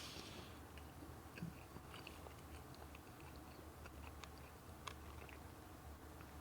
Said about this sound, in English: a couple of the sprinkles are real crunchy